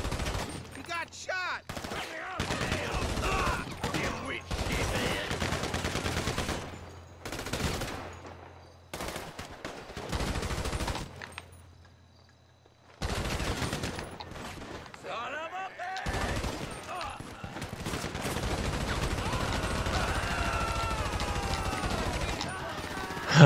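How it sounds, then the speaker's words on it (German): Gunfire in GTA V Online: bursts of automatic and single shots come in clusters separated by short gaps, loud and close, with players talking over the shooting throughout. "Ich schieße einfach nur auf den Haufen drauf."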